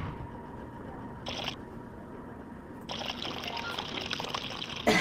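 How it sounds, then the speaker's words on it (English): Blended protein fluid pours onto a cube in the virtual reality game Job Simulator, giving short trickling splashes in two bursts over a faint steady background, ending with a sharp click. "Now just pour that blended protein fluid onto the cube and we are done."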